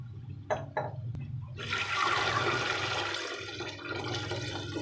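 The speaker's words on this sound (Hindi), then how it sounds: "3 गिलास ये चावल थे, तो 5 गिलास मैं यही पानी शामिल करूँगा इसमें।" Water pours in a loud, steady gush into a pot of rice for chicken pulao, preceded by a few brief clinks and knocks, and runs continuously for several seconds without any voices.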